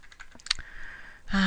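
Quick keystrokes clatter on a wireless computer keyboard, a short run of close, light clicks followed by a brief tonal hum and a louder burst at the end.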